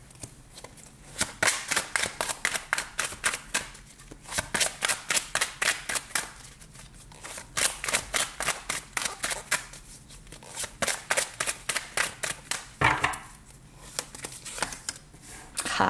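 Tarot cards shuffled by hand for a reading, repeated bursts of crisp rapid riffling clicks in steady rhythmic runs with short pauses between them, close and clear.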